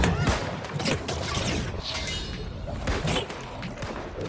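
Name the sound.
rifles firing in a video game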